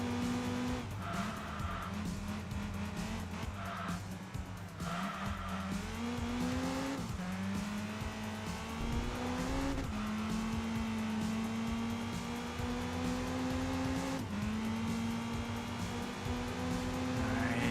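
A Honda Civic in the racing game Enthusia Professional Racing slides with steady tire squeal while its engine revs rise and fall continuously, loud and close throughout with no talk.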